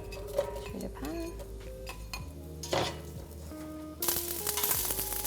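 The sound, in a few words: onions and garlic frying in olive oil in a pan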